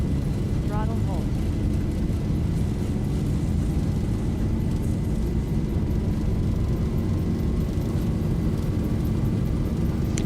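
A Boeing 737's engines roar steadily at takeoff thrust in the Zibo mod flight simulator, a dense broadband rush with a faint rising whine that holds constant and loud throughout.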